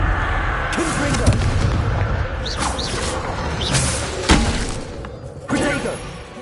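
Explosive spell blasts from the Hogwarts Legacy video game, a series of sharp booming impacts and crackling bursts over a dense, noisy battle bed, with a few clear hits standing out near the end.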